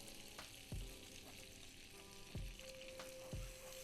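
Flour stirred into melted butter in a pan over low heat, a steady soft sizzle with three dull scraping knocks of the utensil against the pan, close up and without voices.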